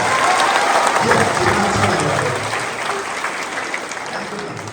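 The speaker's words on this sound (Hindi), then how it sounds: "मैडम के लिए जोरदार ताली हो जाए" Audience at a motivational talk by Barik sir at Parala Maharaja Engineering College bursts into loud, sustained applause for a madam, dense clapping that fills the room and eases slightly toward the end.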